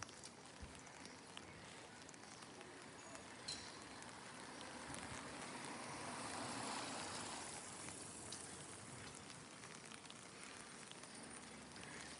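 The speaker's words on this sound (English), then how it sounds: "It's really raining." Steady rain falls over the old town of Bressanone/Brixen, a continuous broadband hiss with a faint trickle of running water, swelling slightly midway and staying even throughout with no talk.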